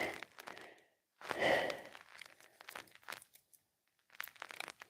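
Scissors cutting open a packet outdoors on the Appalachian Trail at Blood Mountain, close crinkling plastic and short snipping bursts separated by pauses, quiet and intimate.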